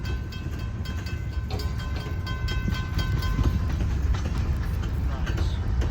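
A northbound Ann Arbor Railroad grain train passes a State Street crossing, its steady low rumble of rolling cars holding close and loud throughout, with faint wheel clatter on top.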